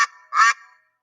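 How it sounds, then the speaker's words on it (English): Two short nasal duck-like honks from a sound effect, the second longer and louder, close and isolated with silence after. "I see a yellow duck looking at me."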